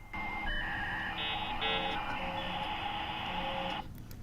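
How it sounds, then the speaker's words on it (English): A 56K dial-up modem handshake from a scene in the Red Dwarf TV series: sustained electronic tones and warbling screech with shifting pitches, steady and fairly loud, ending abruptly after a few seconds. "And the 56K modem sound."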